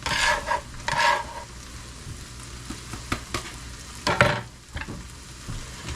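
Parsley is stirred into a hot pan, a utensil scraping and clacking through a steady close sizzle of browning food, with brief louder bursts as the pan is worked.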